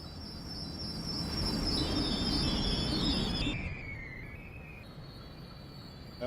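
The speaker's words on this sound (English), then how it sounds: "As I can hear that PATH train over there." A PATH commuter train passing nearby in the New York area, a steady broad rumble with thin high metallic squeals of wheels that rise and fall over several seconds.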